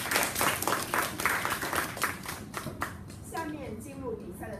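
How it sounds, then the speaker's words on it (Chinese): Audience applause for the debaters and judges at a secondary-school debate tournament, a burst of dense clapping that thins out as a voice begins speaking over it near the end. "请大家再次给予我们的辩论员和评判们热烈的掌声"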